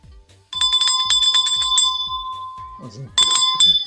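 A bright, chiming notification bell rings twice, the first ring sustained for about two seconds and the second shorter, over a steady low thumping beat, with a brief voice between the rings.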